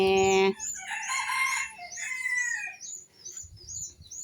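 A rooster crows loudly and close at a bantam chicken and rabbit farm in Chanthaburi, then hens cluck and chatter continuously around it in an outdoor yard.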